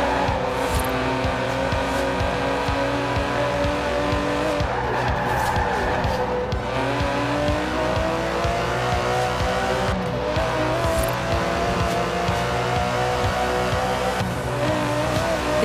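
Aston Martin DB11 with a 5.2-litre twin-turbo V12 driven hard in the Forza Horizon 4 racing game, a loud continuous engine drone rising and falling through gear changes, with tire squeal and skidding along the way.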